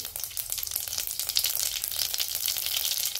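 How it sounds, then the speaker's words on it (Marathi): Mustard seeds sizzle and crackle in hot oil in a wok, a dense, steady frying hiss with scattered pops running throughout, close and fairly loud, with no talk. "तेल गरम झालंय, मोहरी पण टाकली आहे"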